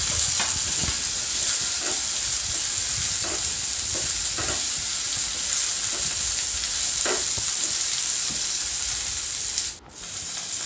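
Tomatoes frying in a pan sizzle steadily up close while a spoon scrapes and stirs in repeated short strokes, with a brief dip near the end and no talking.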